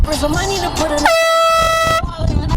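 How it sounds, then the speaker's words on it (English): A loud, blaring air horn blast sounds for about a second, sandwiched between people talking just before and after. "blowing this air horn."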